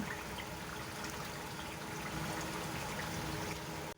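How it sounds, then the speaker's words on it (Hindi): Two cups of water being poured into a pot of achari gosht, mutton simmering with pickle spices: a steady rushing, splashing pour that runs continuously for several seconds at moderate level, then stops abruptly. "इसमें 2 कप पानी शामिल करेंगे।"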